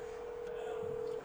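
A single steady telephone keypad tone holds for over a second before cutting off, followed by a faint click, heard at low level during a church gathering.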